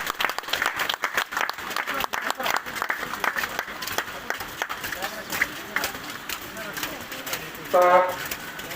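Audience applause swells at an outdoor event held in the rain, steady clapping under an announcer's amplified voice, with a brief louder burst near the end.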